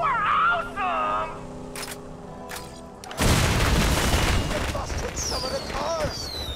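Quiet game sounds and a voice in the video game Borderlands 2 give way to a sudden loud explosive boom of fireworks, followed by a sustained crackling, rumbling burst of blasts.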